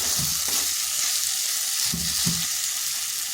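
Soaked chana dal, about 100 grams, sautéed in a pan, giving a steady close frying sizzle with a few soft scraping stirs of a spatula, no voices.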